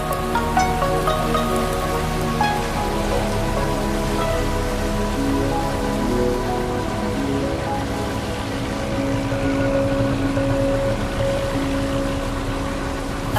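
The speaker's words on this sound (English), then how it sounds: "The rain provides a welcome, though brief, respite from the hot sun and the humidity of this region." Steady thunderstorm rain in the Mekong Delta, Vietnam, falls in a constant wash of patter, with a low sustained tone running beneath it throughout.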